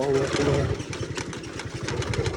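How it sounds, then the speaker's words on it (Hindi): An old motorcycle in poor, worn-out condition runs with a rough, fast, pulsing chug, loud and close throughout, with a voice briefly at the start. "एक तो मोटरसाइकिल भी यार बहुत ही जो है खस्ता हालत में है"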